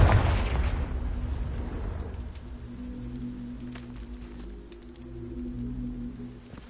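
A Confringo blasting spell detonates in Hogwarts Legacy, a loud burst at the start that decays into a rumbling, crackling tail with lingering low resonant tones over the next several seconds.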